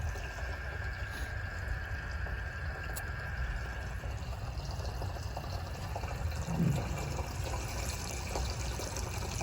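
A pump moves liquid out of a 5-gallon container, giving a steady, continuous low wash of flowing and filling liquid throughout, moderately close, with no talk over it.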